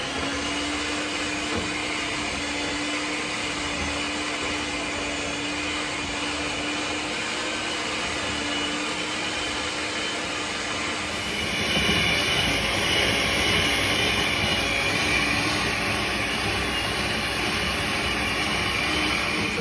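An electric mixer whirs continuously through chocolate chip cookie dough, a steady motor drone with a faint tonal hum. It shifts to a louder, brighter pitch about halfway through, as if the speed rises, and no one talks.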